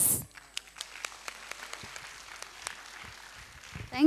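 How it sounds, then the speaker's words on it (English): Scattered, fairly faint clapping from an audience at a preschool annual day festival dance, with sparse individual claps over a quiet room and a brief louder sound at the start and end. "Can we have a big round of applause?"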